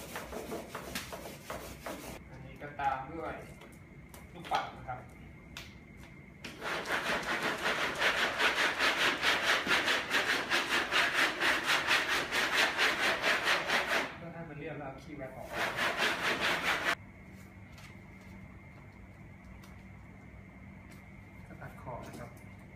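Wood being sawn by hand: long stretches of steady, rasping back-and-forth strokes, close up, with brief pauses and softer scraping between bursts.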